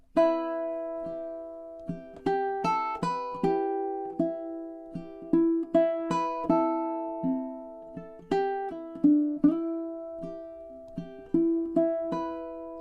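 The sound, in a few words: ukulele playing next four measures of Wayfaring Stranger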